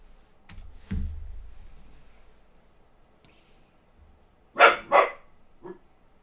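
A dog barks twice in quick succession, close and fairly loud, followed by a softer short yelp. Earlier there is a dull thump and a few faint clicks in an otherwise quiet room.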